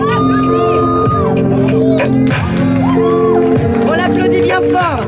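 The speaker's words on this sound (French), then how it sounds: "on peut applaudir tout le monde" A concert crowd at a humanitarian benefit show cheers, whoops and shouts loudly in steady, high-pitched waves of voices, with applause mixed in throughout.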